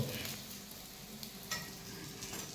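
Pieces of surmai fish fry in hot oil with a steady, close, fairly quiet sizzle and crackle and a few faint ticks, with no talk.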